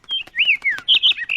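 Cartoon characters in a Peppa Pig bird-watching scene whistle imitation bird calls, a rapid series of high chirps, sliding tweets and trills, loud and close.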